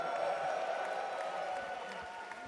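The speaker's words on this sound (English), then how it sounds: "now you guys are cheering because I tell you to" Arena crowd at The International Dota 2 Grand Final cheering and applauding in a steady, sustained wash of noise, loud and close, with a caster's voice faintly mixed in.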